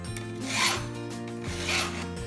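A Stihl 2 in 1 file sharpens a chainsaw chain's tooth and raker. Two close, slow rasping strokes of metal filing on metal sound one after another.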